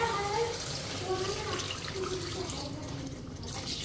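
Dried fish stock water pours into spices frying in a pan, a continuous close splashing and running-water rush over a low sizzle, with a voice talking faintly beneath.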